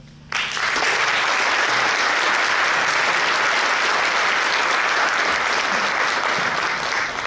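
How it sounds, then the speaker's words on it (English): An audience at a firefighter academy recruit graduation ceremony breaks into loud, sustained applause, a dense wash of clapping that starts abruptly and holds steady to the end. "Let's give him another round of applause."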